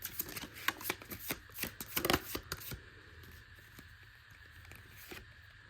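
A deck of tarot cards is shuffled close up in a quiet room, a quick run of crisp riffling slaps that stops partway through, leaving only soft room hiss.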